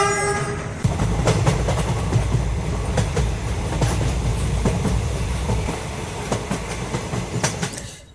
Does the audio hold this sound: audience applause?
no